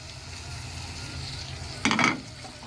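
Chicken and tomatoes frying with onion in a pan, with a low simmering sizzle and then a brief burst of scraping and clattering as the mixture is stirred.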